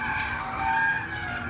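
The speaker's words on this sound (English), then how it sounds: "It sounds like someone's had a spin in the background." Engine noise from GT4 race cars at Circuit of the Americas drones throughout, with a squealing tire skid from a spinning car rising above it in the middle, fairly loud and steady.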